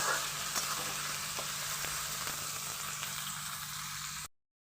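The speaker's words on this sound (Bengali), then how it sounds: "এখানে আমি বেশি করে বেরেস্তা ভেজে নিচ্ছি পাঁচখানা মিডিয়াম সাইজের পেঁয়াজকে" Five medium sliced onions fry in plenty of oil as beresta for chicken biryani, a soft, even sizzle with occasional faint stirring taps that cuts off abruptly near the end, with no speech.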